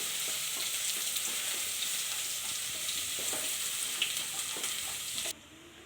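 Food sizzles steadily in a pan on a gas stove while it is stirred for an easy pulao, with soft scraping stirs over the frying before the sound drops away abruptly near the end.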